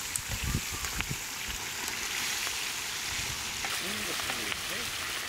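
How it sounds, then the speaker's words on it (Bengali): Carp pieces frying in hot oil make a steady close broadband hiss and crackle like rain throughout, with a voice briefly speaking over it near the end. "মাছটা ভাজবো দিয়ে দিলাম।"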